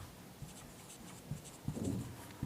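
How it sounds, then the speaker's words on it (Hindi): Chalk or marker writing on a classroom board during a grammar lesson, heard as a few short scratchy strokes and taps spread across the moment, fairly faint with room tone and no speech. "थोड़ी दूरी पे लिखते हैं"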